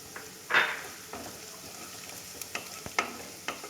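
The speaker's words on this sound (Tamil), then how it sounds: "வெங்காயம் வதக்கிட்டே இருக்கும் பொழுது" Onions and pepper being sautéed in a pan for a brinjal gravy, with a soft sizzle under a few short, close scrapes and clinks of a stirring spoon against the pan.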